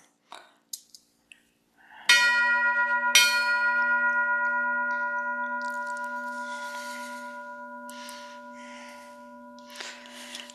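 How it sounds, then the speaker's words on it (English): Engine room bell from the steam tugboat Seguin, launched in 1884 and worked on Maine's Kennebec River, struck twice in close succession, its clear metallic tone ringing out and slowly fading, preceded by a few faint taps. "Here is the sound of the engine room bell."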